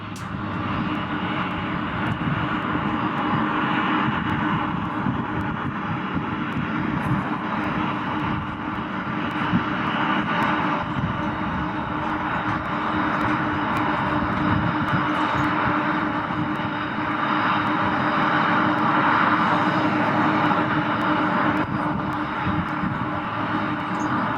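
An airplane after landing, having lost one of its tires, gives a steady, loud engine roar and hum that holds evenly throughout with no voices.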